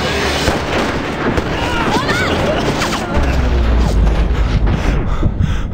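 Chaotic gunfire and blasts in the video game 1979 Revolution: Black Friday, dense loud bursts layered over shouting voices and crowd noise.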